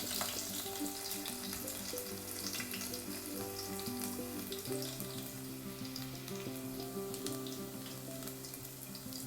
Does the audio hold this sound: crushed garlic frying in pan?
yes